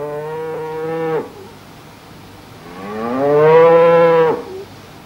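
A cartoon cow moos twice, loud and close: a short low moo followed after a pause by a longer drawn-out one, with no talk over it.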